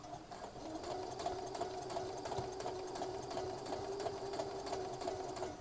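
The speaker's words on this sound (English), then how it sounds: "I am going to start stitching on this edge" Sewing machine stitching along a fabric edge of a sweater top, a steady continuous motor hum with rapid needle rhythm, close and even in loudness from start to finish, with no voices.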